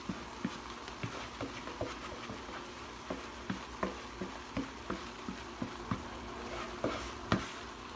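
Drained spinach is stirred into a creamy chicken skillet, with soft rhythmic scraping and tapping strokes over a quiet simmering sizzle.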